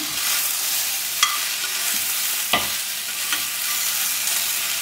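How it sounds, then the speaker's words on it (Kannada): Okra and tomato fry in a pan with a constant close sizzle, broken by a few sharp spatula clicks and scrapes as the mixture is stirred. "ಬೆಂಡೆಕಾಯಿ ನೋಡಿ ಚೆನ್ನಾಗಿ ಫ್ರೈ ಆಗಿದೆ. ಇವಾಗ ಈ ಥರ ಫ್ರೈ ಆದಮೇಲೆ ಒಂದೇ ಒಂದು ಟೊಮೆಟೊನ ಹಾಕೊಂತಿದ್ದೀನಿ."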